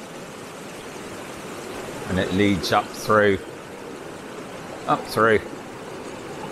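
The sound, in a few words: waterfall and stream flowing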